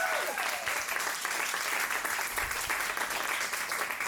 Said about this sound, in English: I need a nice round of applause.